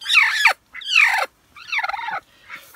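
Broody hen squawking loudly at close range when approached, giving three harsh, drawn-out cries separated by short silences, followed by a shorter, fainter call.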